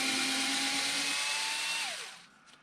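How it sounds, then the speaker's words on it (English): Handheld power driver loosening bolts on a ZD Racing DBX-07 4WD brushless RC desert truck, a close steady motor whine that drops in pitch and fades out as it stops, with no talk. "Mainly, I just used this power driver to save my wrist."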